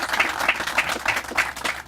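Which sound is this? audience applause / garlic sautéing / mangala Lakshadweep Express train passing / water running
audience applause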